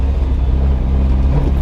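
A Ferrari Enzo engine bogs down through a right-hand turn, a heavy low rumble that labours steadily and close for a moment without revving up cleanly.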